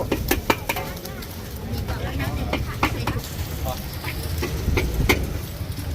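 Pad see ew being stir-fried in a huge wok, forty to fifty plates at once: metal spatula scrapes and clangs against the pan in quick irregular strokes over a steady sizzle, with voices talking nearby.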